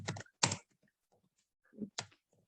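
Typing on a computer keyboard: a few close, crisp bursts of key clicks separated by quiet gaps, with no speech.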